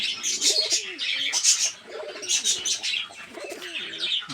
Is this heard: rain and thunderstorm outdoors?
no